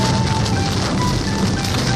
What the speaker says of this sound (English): Let's try to get away from this hail here.